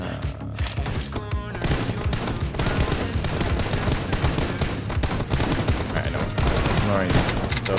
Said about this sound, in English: Let me know if you hear none of the gunshots.